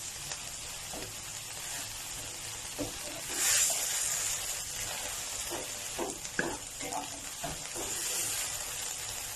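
Chicken sizzles and crackles in a hot pan while being stir-fried, with scraping and clinking from the utensil and a steady hiss throughout.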